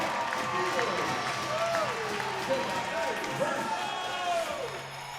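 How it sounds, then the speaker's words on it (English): Rambunctious volleyball crowd inside Holt Fieldhouse for a Carson-Newman college match, cheering and applauding steadily throughout as a busy arena roar, with squeaky shoe sounds and a commentator's voice layered over it. "this rambunctious crowd comes to life"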